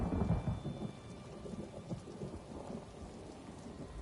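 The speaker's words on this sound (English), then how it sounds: "I could do without this damnable rain. It's been storming since we arrived, and it shows no sign of letting up." Rain pours steadily in Elder Scrolls Online while low thunder rumbles and rolls beneath it, loudest at the start and then easing into a continuous stormy wash with no talk.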